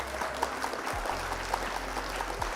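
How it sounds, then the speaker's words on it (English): A round of applause dropped into a card game session of Flesh & Blood, steady crowd-like clapping at modest level over a constant low hum, with a few brief low thumps. "Round of applause."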